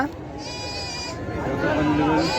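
Goats bleat repeatedly at close range at the Angallu weekly livestock market, their wavering cries rising over a busy background with people talking nearby.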